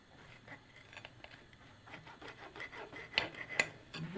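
A knife slicing through a freshly baked jam cake, giving faint soft rasping and rubbing strokes that end in a couple of light clinks near the end.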